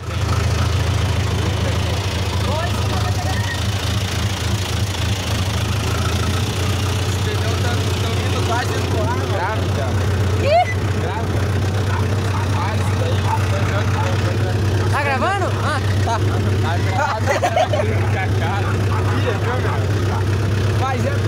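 A tractor engine runs steadily throughout while being driven on a farm during a potassium chloride loading job, a loud low rumble with occasional clanks, and voices speak over it now and then.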